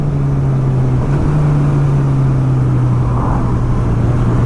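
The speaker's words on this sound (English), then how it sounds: "see if we can hear this exhaust growl." A loud, steady engine drone with a low rumbling growl from a 2019 Honda CB1000R Plus motorcycle with a Termignoni GP2R exhaust, in second gear, continuous throughout as it runs close by.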